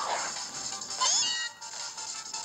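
A Meowth cries out in Pokémon Ultra Moon, a single bright, rising and falling cat-like meow sounding clearly over steady game music.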